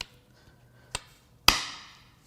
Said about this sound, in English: we're going to use my science hammer and my other hammer so that together, twice the hammer power